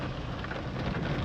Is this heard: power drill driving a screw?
no